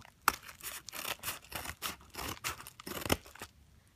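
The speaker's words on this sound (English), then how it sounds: "And I need some scissors." Scissors cut and tear through the wrapping of a gift package sent from Japan, in a rapid run of crisp snips and rustling bursts heard up close.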